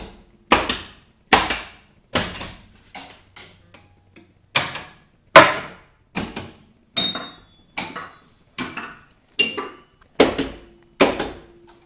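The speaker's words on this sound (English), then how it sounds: "So right now it's hitting all the pop bumpers." Pop bumper solenoids on a Bally Evel Knievel pinball machine fire one after another in a test cycle, a series of sharp, loud mechanical clacks at roughly one-second intervals with near silence between them.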